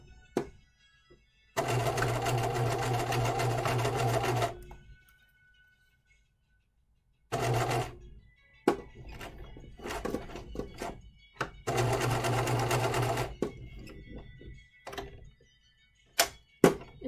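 A home sewing machine stitches a hanten jacket mockup in several close, loud bursts of rapid mechanical whirring and needle clatter, separated by silent pauses and small clicks of handling.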